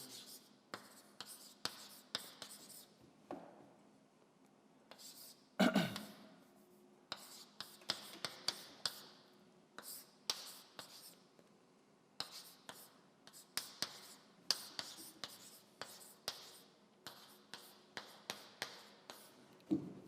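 Chalk or marker writing out a time-complexity formula on a board during a quantum computing lecture, a steady run of short scratchy strokes and taps with brief pauses between bursts, close and clear with no talking.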